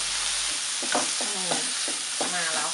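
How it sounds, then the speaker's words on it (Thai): Shrimp stir-fried briefly in a hot pan: a constant bright sizzle with several quick spatula scrapes, close and loud, no voices. "กุ้งนี้เราจะผัดไม่นานนะคะเพราะว่าถ้าผัดนานเนี่ยเขาจะเหี่ยว"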